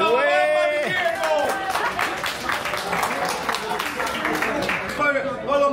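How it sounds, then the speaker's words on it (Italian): Applause and cheering from a crowd on a street in Naples, honoring Diego's mother, with dense clapping running throughout while voices call out over it. "Lasciamo l'applauso alla mamma di Diego!"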